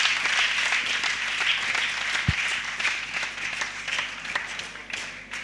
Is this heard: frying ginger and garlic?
no